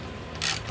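A hand ratchet fitted with a 15mm socket, used while changing the front struts on a Dodge Avenger, gives a short burst of clicking, close and fairly loud, with no talking.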